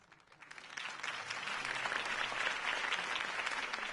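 Crowd applause after a speech in a Telltale Batman video game, building from quiet into a steady, sustained wash of clapping, fairly loud and continuous with no voices on top.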